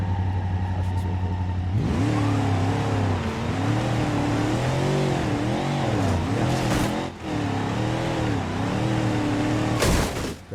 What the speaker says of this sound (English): This is a car that was added in Beamng a little bit ago.